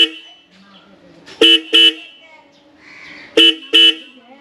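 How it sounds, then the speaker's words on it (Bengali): Newly fitted motorcycle horn honking with an idling engine beneath: two quick pairs of loud, bright beeps, each pair close together, separated by a short pause, up close. "এইবার হর্নটা আওয়াজ শোনা যাক"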